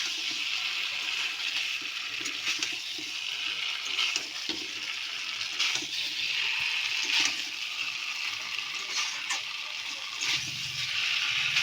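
Hot water pours into a hot pan of spiced taro curry, a continuous rushing, bubbling gush with steady hiss and sizzle, close and fairly loud throughout.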